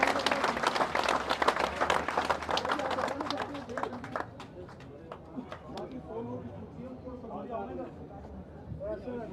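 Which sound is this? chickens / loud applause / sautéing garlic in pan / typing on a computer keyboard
loud applause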